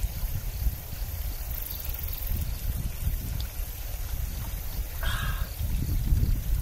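Spring water wells up and flows at a roadside spring in Niigata, a steady low rushing gurgle that stays close and even throughout, with a brief clatter near the end.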